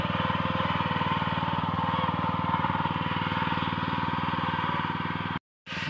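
A rice harvesting machine's engine runs at a continuous, close, even chugging drone with a fast regular pulse, cutting out briefly near the end before resuming.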